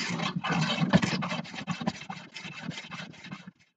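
A jointer plane shaves a wooden piece in a series of rasping, rhythmic strokes, loud and close at first, then tapering off before falling silent.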